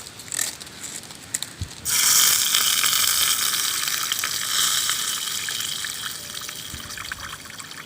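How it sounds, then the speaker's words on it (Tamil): Tamarind water poured into a hot pan of sautéed ingredients for pulisatham, a sudden rushing splash and sizzle after a few soft clinks, then a continuous bubbling hiss that slowly fades. "புளித்தண்ணி நம்ம அதை ஊற்றணும்."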